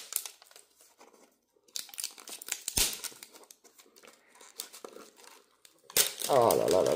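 Plastic wrapper of a Pokémon card booster being torn and crinkled open by hand, a run of close crackling rustles with a louder, sustained crinkle at the end.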